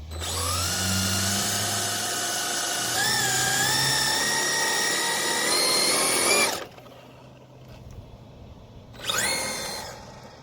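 A DR10 RC car's electric motor revs in a tire-burning burst, a loud rising whine for several seconds that cuts off, followed by a shorter second rev.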